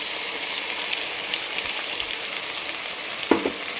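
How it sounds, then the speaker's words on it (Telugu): Potato pieces frying in a pan as they soften, a steady crackling sizzle close by, with faint occasional stirring taps and a brief scrape near the end, no speech. "బంగాళదుంప కొంచెం మగ్గే వరకు వేయించుకుంటే సరిపోతుంది"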